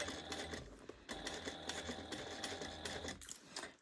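A sewing machine stitches through a bag, its needle running in a fast, steady mechanical patter with brief pauses and restarts, close and clear, no voices.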